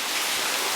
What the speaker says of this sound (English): more rain here.